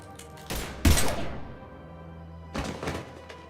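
Gunfire in Mass Effect 3 Legendary Edition on PS5: a few heavy, booming shot bursts separated by short pauses, each with a deep thudding impact and a ringing tail.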